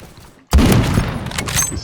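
Heavy M107 rifle fire in a video game, a sudden loud blast after a quiet moment followed by a dense, sustained roar of gunfire and explosions.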